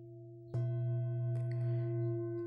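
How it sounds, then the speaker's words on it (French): A Tibetan singing bowl resting flat on a palm is struck and rings with a steady, sustained metallic hum, its layered tones holding evenly near and alone after a soft onset. "Lorsque vous prenez un bol tibétain, que vous le posez à plat dans votre main et que vous le faites résonner"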